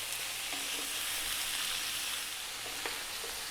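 Lamb biryani frying in a pot as it is stirred, a steady, close sizzle throughout with occasional soft scrapes of the spoon and no voices.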